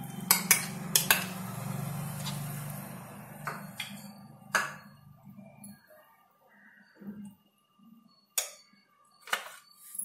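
Pumpkin pachadi being mixed in a bowl: a spoon scrapes and stirs steadily at first, then gives way to scattered sharp clinks and taps against the dish, close and moderately quiet, with no voices.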